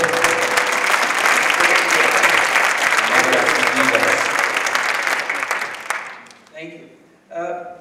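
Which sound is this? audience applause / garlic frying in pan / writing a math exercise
audience applause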